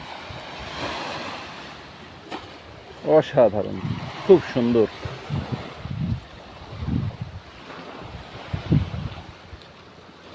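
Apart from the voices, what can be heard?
roaring sea waves on a rocky shore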